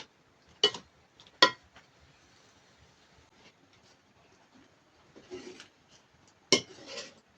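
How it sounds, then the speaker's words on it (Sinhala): A spoon stirs chicken curry in a pot now and then, making a few sharp, close metallic clinks and scrapes against the pot, separated by quiet stretches. "දැන් මේක මේ විදිහට සැරින් සැරේ මෙන්න හැන්දෙන් කලවම් කර ඉදෙන්න දෙන්න"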